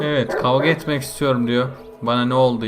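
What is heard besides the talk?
None of the usual background noises is heard.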